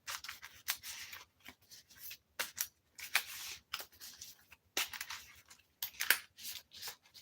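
Deck of trading cards shuffled by hand at a tabletop game session, a string of quick crisp riffling and rustling bursts separated by short pauses, close and fairly quiet with no talk.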